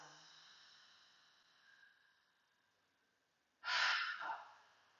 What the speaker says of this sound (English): Keep relaxing and breathing.